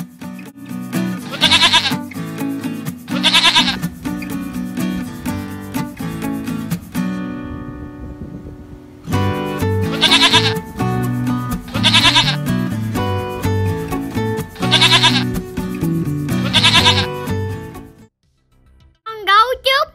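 Repeated goat bleats, loud and close, come in a series of wavering cries with a short pause midway, interleaved with music and a child-friendly voice naming farm animals.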